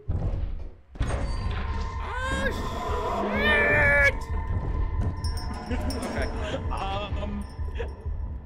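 A cat meows repeatedly in a video game, several wavering, drawn-out calls mixed with thuds and a door-like bang, heard under steady chatter from players talking over it.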